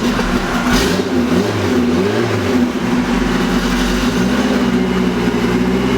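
A Toyota MR2 with a swapped K24 engine and no idle air control valve starts up and runs rough. The engine throbs loudly up close, with uneven, wavering revs rising and falling.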